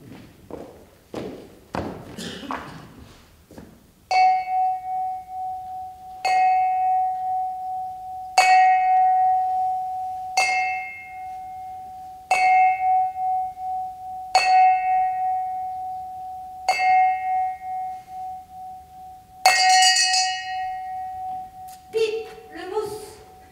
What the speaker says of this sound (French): 8 coups de cloche, t'entends le sonneur.